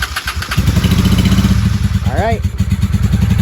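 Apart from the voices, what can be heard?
1995 Honda Shadow VLX 600 motorcycle engine running on choke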